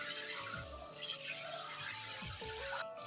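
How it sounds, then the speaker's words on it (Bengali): Atap rice being rinsed in a pot with water, a soft continuous wash of running and sloshing water at close range, low in level, with no talking. "তাই চটপট চালগুলো বের করে ভালোভাবে ধুয়ে নিচ্ছি"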